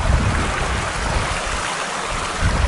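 Bledge Brook, a moorland stream on Dartmoor, flows in a steady broadband rush of water, close and continuous throughout with no voices.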